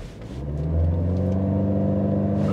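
A BMW 320i xDrive G20 with a Stage 1 tune revs up at launch and accelerates hard, its engine note rising and then holding as a loud, steady, close-up drone with no talking.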